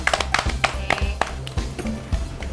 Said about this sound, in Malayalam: അപ്പൊ നമുക്ക് ക്ലാപ്പ് ചെയ്യാം